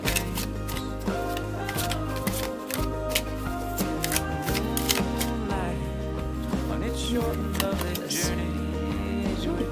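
Rapid papery riffling of a tarot deck being shuffled, repeated bursts of crisp flutter close by, with a few sharp snaps between runs.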